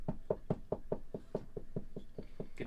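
A dozen evenly spaced knocks on a hard surface, close and steady, about five per second with a hollow woody thud.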